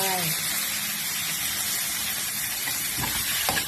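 Snakehead fish dropped into a hot pan for a Thai chu chee curry, giving a loud, steady sizzle and hiss that carries through the whole stretch, with a few clinks of utensils near the end.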